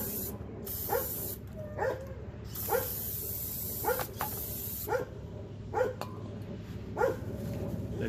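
Several bursts of brake cleaner aerosol spray hissing on the rear brakes of a 2021 Jeep Grand Cherokee, some long and some short, while a dog barks in short, regular yelps.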